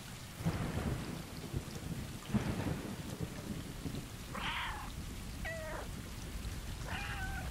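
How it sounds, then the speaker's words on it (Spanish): A cat meows in the video game Stray, with several short rising cries over a steady rain-and-thunder ambience and low rumbles; the meows stand out clearly above the constant storm bed. "os dan un logro si maulláis 100 veces"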